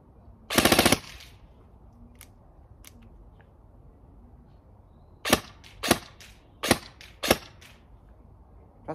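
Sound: ASG Scorpion airsoft gun firing bursts and full auto

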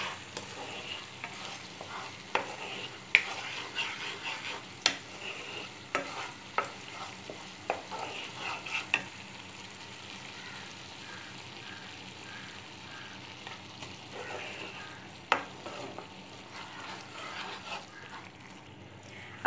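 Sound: stirring salt into tomato gravy in a pan

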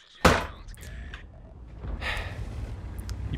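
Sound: tank cannon shot in World of Tanks video game

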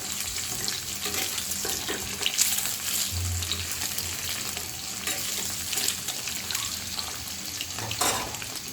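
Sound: frying eggs in a pan

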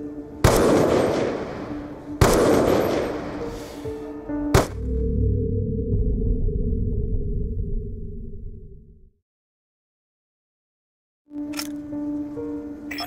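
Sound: gunfire in the video game Call of Duty Black Ops 2

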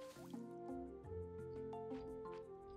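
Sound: watering plants with a water skin in Roots of Pacha video game

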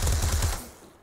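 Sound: gunshots in the video game Krunker.io

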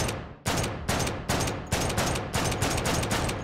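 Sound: gunfire from a gun in the video game H3VR

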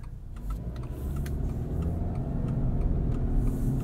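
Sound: boxer engine rumble

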